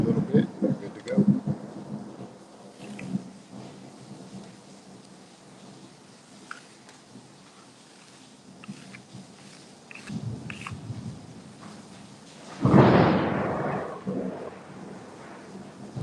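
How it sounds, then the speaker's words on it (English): A thunderstorm outside, with a low rumble of thunder rolling in and swelling midway, heard from indoors under scattered close handling noises and a person speaking. "Can you guys hear the lightning out there?"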